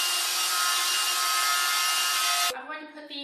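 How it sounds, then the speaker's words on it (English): A plunge router set to a 3/16-inch depth cuts a countersink into wood, giving a loud, steady close-up whine that stops abruptly partway through and leaves a quieter tail. "Go ahead and actually use my router for my countersink"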